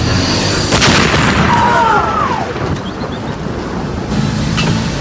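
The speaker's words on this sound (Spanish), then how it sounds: "Kubitsch lanzó la granada del maletín." A grenade blast in a documentary reenactment of an attack on a car lands as a loud, deep boom, followed by rumbling debris. A second impact hits near the end, with no voices.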